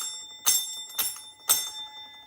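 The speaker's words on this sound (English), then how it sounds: "I get people coming in the shop and they're like, the bell doesn't work, fucking does it? I think I've got a faulty bell." A faulty shop bell rings three times at regular intervals, each a bright metallic strike that fades quickly, close and alone.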